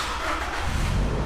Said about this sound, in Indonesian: Dan di starter langsung jreng ya. Jreng. Langsung hidup.